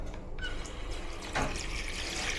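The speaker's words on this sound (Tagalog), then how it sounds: "golden faucet." Water runs from a golden faucet in a bus bathroom, a soft steady trickle that swells into a fuller pour partway through, with no talk.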